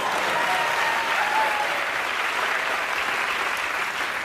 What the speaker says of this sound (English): You can applaud, sure.